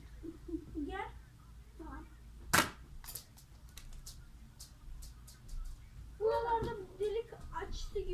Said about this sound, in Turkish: Silahımız burada. Boncuğumuz içinde. Çekiyorum tetiğini.